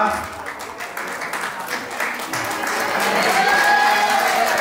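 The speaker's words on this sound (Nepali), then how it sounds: "कृपया सबैजना ताली बजाउनु होला।" Audience applause at a college farewell ceremony, a dense sustained clapping that swells and grows louder toward the end, with voices mixed in.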